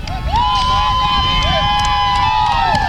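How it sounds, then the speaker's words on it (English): High school football crowd on the Piggott sideline cheering and shouting loudly, with sustained voices and rising calls close by, continuous for the whole stretch. "Crowd's getting into it over here on Piggott sideline."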